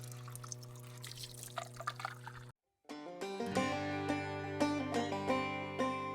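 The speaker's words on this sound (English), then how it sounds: "we're just circulating and cleaning and recirculating this water so it runs through the system" Water circulates through an off-grid, solar-powered well water system, pouring and trickling steadily against a low humming tone. After a brief silence the flow returns, brighter and more ringing, with small splashes.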